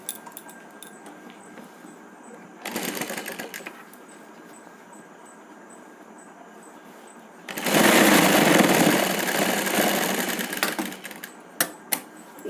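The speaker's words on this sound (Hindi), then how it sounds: "ये फोल्ड लगा के हम 4 इंची की दूरी में इस तरह से एक सिलाई लगाएंगे।" A sewing machine runs a seam on a four-panel petticoat in two bursts of steady, close mechanical whirring, the second one longer and louder, with a few sharp clicks at the end.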